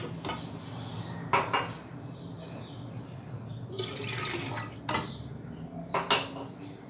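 Water poured into a kettle while masala chai is prepared, with a steady trickle broken by several sharp clinks of metal pots and utensils close by, and no talking.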